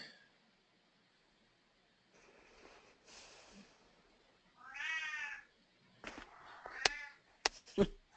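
A cat meows a few times in a quiet room, short distinct cries with faint rustling between them.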